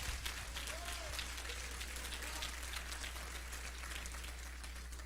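Church congregation applauding during a sermon, a faint, even patter of many hands clapping heard at a distance over a steady low hum, sustained throughout the clip.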